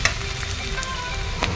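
Masala frying in hot oil for a chicken curry, a loud, continuous close sizzle with faint crackles throughout and a small spatter near the end.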